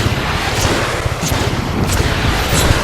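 C4 explosions on a fuel tank and falling rockets rumble through the video game Just Cause 3, a dense, continuous barrage of booms with sharper blasts about every half second, loud and with no voices.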